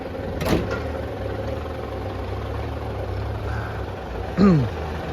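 A 12-wheel Hino 700 series truck with a 12-speed automatic gearbox idles at a steady, low, even rumble, with a brief burst of voice near the end.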